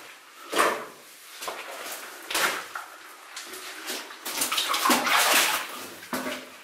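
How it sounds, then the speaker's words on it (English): Running water in an old underground placer mine with mud and timber frame remains, a steady trickling wash with splashing bursts, fairly close and moderately loud, with sloshing steps through mud and water. "I can hear running water back there."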